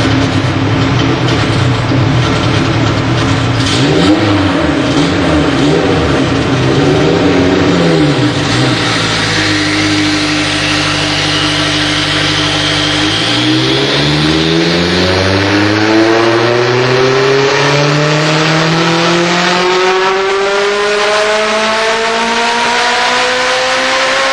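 A car engine revs hard on a dyno pass, loud and close, climbing through sustained high-rpm pulls, dropping briefly, then sweeping upward again through rising gears.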